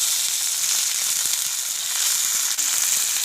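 Flat beans and potatoes fry in a pan, giving a steady, loud sizzle with a dense crackling hiss that stays even throughout, with no voices.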